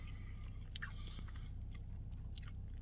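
A crispy bagel topped with brisket is chewed close to the mic, with soft crunches and wet mastication over a low steady background hum.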